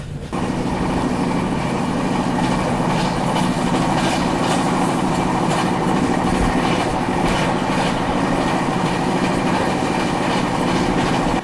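A Tirupati–Jammu Tawi Hamsafar Express runs along the track, heard from on board as a loud, steady rumble with rhythmic clickety-clack of the wheels and no voices, continuing for the whole stretch.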